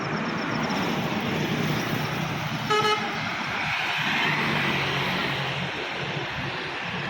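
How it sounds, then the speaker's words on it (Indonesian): Putra Pelangi intercity bus on the road, its horn sounding a brief tooting blast amid rumbling traffic and engine noise nearby. "Ini bus Putra Pelangi."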